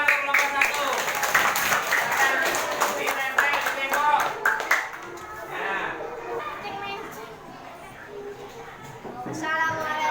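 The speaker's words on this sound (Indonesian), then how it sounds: "tepuk tangan untuk kelompok 1" Classroom students clap for a group, with scattered, uneven hand claps that are loud at first and then thin out, mixed with children's chatter and voices throughout.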